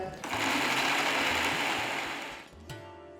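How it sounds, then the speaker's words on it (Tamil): Mixer grinder jar whirring as it grinds coconut, ginger, green chillies and salt without water: a steady loud motor drone with gritty rattling, pausing briefly near the end before restarting. "ஒரு மிக்சர் ஜாரில் கால் கப் தேங்காய் ஒரு துண்டு இஞ்சி நாலு பச்சை மிளகாய் கொஞ்சம் உப்பு சேர்த்து தண்ணி ஊற்றாமல் அரைச்சிக்கோங்க"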